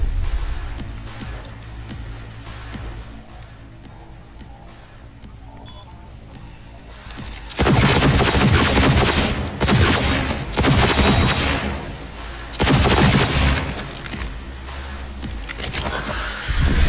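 Sniper gunfire in the Cyberpunk video game: loud bursts of shots and impacts begin partway through after a quieter stretch, coming in several dense clusters with brief lulls between, with no talk over them.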